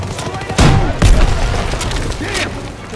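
Machine gun fire in Call of Duty WW2 fighting in Aachen comes as two loud, close bursts followed by weaker distant shots and rumbling in a busy battle soundscape.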